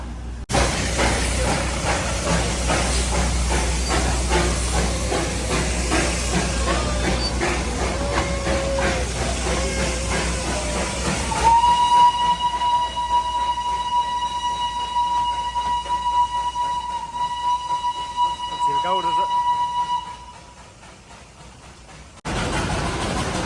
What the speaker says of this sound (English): Finally, the train has arrived after the 1 hour from Darjeeling railway station to the Ghoom